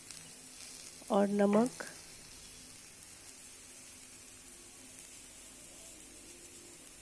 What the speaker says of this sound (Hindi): अब इसको थोड़ी देर और फ्राई करेंगे।